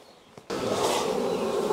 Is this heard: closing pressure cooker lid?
no